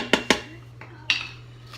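Vegetables are dropped into a stew pot while a Bavarian Pichelsteiner stew is layered. Two quick clanks ring out close together, followed by a softer knock and one more clank, sharp and near in a quiet kitchen.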